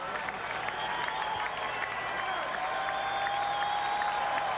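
A small Milwaukee baseball stadium crowd at a Brewers game against the Diamondbacks makes a steady, distant roar with scattered claps, while a broadcaster talks over it.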